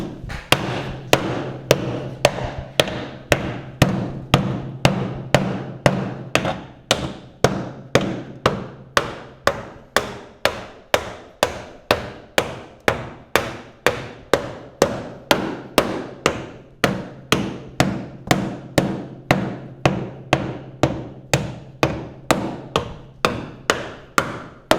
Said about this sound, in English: what we're going to do, just sledgehammer,